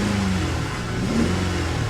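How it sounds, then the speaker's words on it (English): A Chevrolet Corvette convertible engine with a dead-cylinder misfire revs steadily for about two seconds, a rough, uneven mid-pitched drone held close and loud with no talk over it. "Give it a few revs, see if we can clear it up a little bit, if it gets better with RPMs or not."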